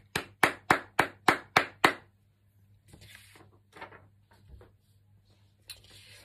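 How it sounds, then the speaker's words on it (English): Clapping at a school celebration assembly: seven sharp, evenly spaced claps in quick succession, close and distinct, after which the sound fades into quiet murmuring and faint voices in the hall. "So give him a round of applause."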